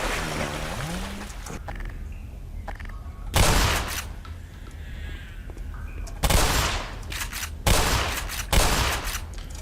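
Gunfire in the Black Mesa video game, a few separate bursts of loud shots spaced several seconds apart over a watery, rumbling ambience.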